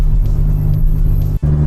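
Ferrari Testarossa 512 TR cruising at low speed, its engine giving a loud, steady low rumble from inside the car with a brief dip near the end, no voices over it.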